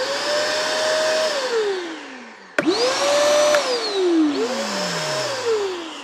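Two carpet spot cleaners run one after another, each a steady motor whine with a rising start-up and falling spin-down tone, loud and close with no talking.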